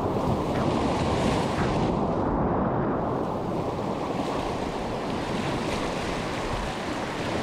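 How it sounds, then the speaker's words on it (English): Fast river currents push against vertical cliffs on a mountain river in the Northwest Territories, Canada, and form strong curling waves: a continuous loud rushing roar of turbulent water, close by, with wind buffeting the microphone. "Fast currents push up against vertical cliffs to generate strong curling waves"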